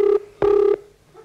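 Two steady electronic phone tones sound close and clear, a short one then a longer one, followed by a fainter third tone, like a telephone being dialed, with no voices.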